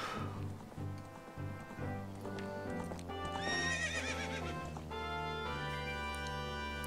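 A horse whinnies in The Legend of Zelda: Ocarina of Time over steady musical backing, with hoofbeats clopping in a game-like soundscape.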